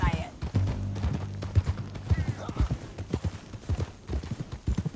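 Horse hooves clip-clop in a steady trotting rhythm across a canyon in Red Dead Redemption on PS5, close and prominent, with low rumbling game sound underneath.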